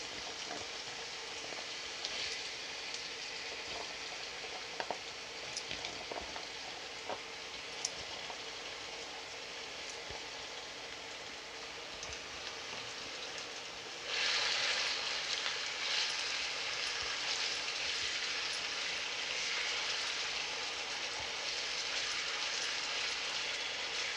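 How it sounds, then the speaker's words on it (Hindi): Potatoes frying in a pan with mustard greens, a steady close sizzle that grows louder and brighter partway through, with no talking. "आलू को अच्छे से फ्राई करेंगे जब तक अच्छे से लाल लाल ना हो जाए भुन के"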